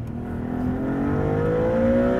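Engine of a Maserati MC20 supercar in sport mode revs steadily up toward redline, a loud continuous rising drone with climbing harmonics heard from inside the car, with no talking.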